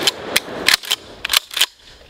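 Blasts from a Savage Arms Stevens 320 12 gauge pump shotgun, several sharp cracking reports in quick uneven succession, somewhat distant and thin, with no talking.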